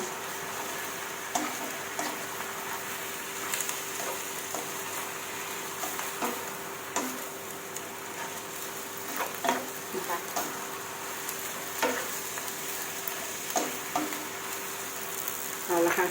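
Napa cabbage stir-frying in a pan, a steady close sizzle broken by irregular scraping and stirring clatters of the spatula throughout.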